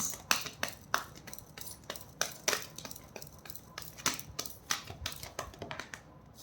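A deck of tarot cards is shuffled by hand, producing faint, quick clicking and riffling taps in uneven bursts, close but quiet.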